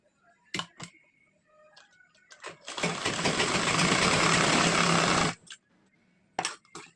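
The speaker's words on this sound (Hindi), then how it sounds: "इसके बाद हम टक्स की सिलाई करेंगे।" A sewing machine stitching tucks on a three-piece princess-cut blouse runs in one steady, close whirring burst of about two and a half seconds, framed by scattered clicks and handling knocks before and after.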